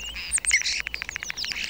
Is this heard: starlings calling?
yes